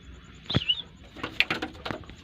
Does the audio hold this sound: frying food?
no